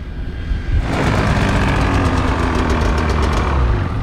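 A snowmobile engine starts up loud and close after a brief quieter moment, then runs with a rough, clattering rattle from rocks caught in its track, steady and continuous.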